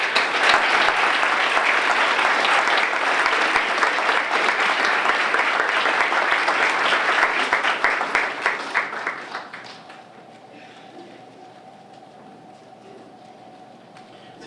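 An audience in a hall claps for honored teachers in a dense, sustained round of applause that goes on for several seconds before it fades out into a quiet room.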